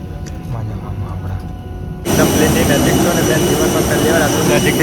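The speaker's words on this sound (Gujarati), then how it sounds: "નજીકથી પ્લેન જોઈ છે જુઓ તમે બધા જોઈ લો એકદમ નજીકથી પ્લેન" A jet airliner at Mumbai airport, bound for Dubai, starts its engine roar abruptly partway through. The roar is loud, close and steady, with a few voices faintly under it beforehand.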